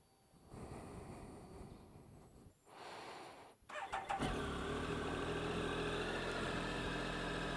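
A 2013 Triumph Tiger 1050 Sport's triple engine starts after a quiet rustling stretch, then runs steadily and loudly close by for the last few seconds with no talk.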